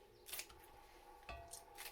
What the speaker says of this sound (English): scissors have been a godsend